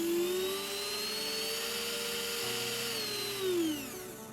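A JD 8500B electric micromotor drill runs steadily with a high, close whine, and its pitch rises and falls as the speed is changed with a foot pedal.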